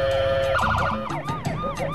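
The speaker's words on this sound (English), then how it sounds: "When the ambulance passes him, Michael finishes" An ambulance siren wails loudly and close, its rising and falling sweeps sounding alone as the emergency vehicle passes on the road.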